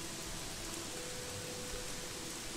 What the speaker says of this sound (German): Doch, es regnet weiterhin.